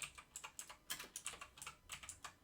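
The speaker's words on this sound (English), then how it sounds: "Let's go ahead and type in his name." Fingers tap quickly on a computer keyboard, a quiet run of light clicking keystrokes in an uneven rhythm with no talk.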